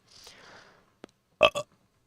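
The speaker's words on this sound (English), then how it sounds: "I feel like I could give myself a better burp" A person burps in two quick guttural bursts, preceded by faint breathy noise and a tiny click in an otherwise quiet room.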